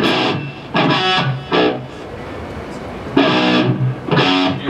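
Guitar played through a Blackstar amp with delay and reverb effects at a NAMM clinic, bursts of distorted notes and chords with echoing tails between them, close and fairly loud.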